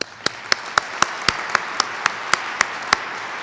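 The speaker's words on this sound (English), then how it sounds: "And a round of applause for our whole panel." An audience applauds a conference panel on the future energy landscape, with a steady bed of clapping and about a dozen sharp, evenly spaced louder claps standing out close to the microphone.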